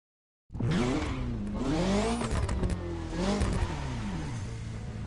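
The V12 of a Ferrari Enzo in The Crew Motorfest racing game revs hard after a silent start, its pitch climbing and falling through several gear changes in a loud, continuous roar.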